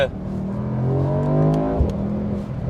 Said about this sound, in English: The tone of the exhaust changes because a valve opens up, and it sounds really, really good.